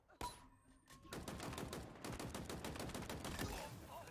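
Sustained rapid machine gun fire in Halo Infinite, loud and continuous after a brief opening shot, with dense repeating bursts over a busy game soundscape.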